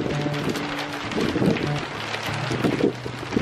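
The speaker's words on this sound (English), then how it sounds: "Hailing in the Arizona desert. Out of nowhere, it just started hailing." Hail pelting down during a sudden squall in the Arizona desert, a dense, steady clatter of hard pellets with gusty swells, loud and close throughout.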